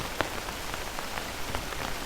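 Soft rain tapping on a quiet street, a continuous patter with a scattering of distinct drops landing close by, gentle and steady.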